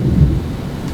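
Rain falling outside a window, heard as a soft, steady low rumble with a heavier swell early on, even and unbroken with no voices.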